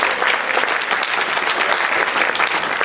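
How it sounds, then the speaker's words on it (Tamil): An audience at a CD launch event claps steadily and loudly, a dense and continuous wash of applause that fills the room with no pauses. "அதுக்கே ஒரு பெரிய கைத்தட்டல் கொடுக்கிறோம்."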